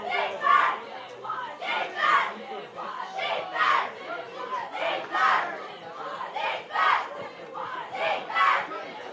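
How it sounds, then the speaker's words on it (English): A group of high school spectators at an ultimate frisbee championship chants and cheers in rhythmic, repeated bursts for Burnaby North, a crowd of young voices rising and falling in a regular pattern. "Another one of the Fraser Valley teams cheering on Burnaby North here"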